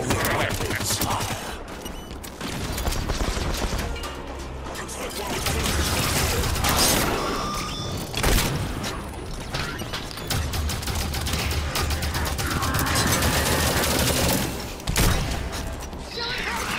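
Weapons fire crackles through a Halo 5: Guardians cutscene, sustained bursts and booms layered under a dense orchestral score, with a few louder impacts standing out.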